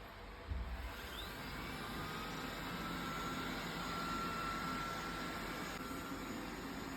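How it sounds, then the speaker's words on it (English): A Xiaomi Robot Vacuum S10+ runs indoors with a steady, even whirring hum from start to finish, fairly quiet and close, with no voices. "Alright, starting Xiaomi Robot Vacuum S10 Plus."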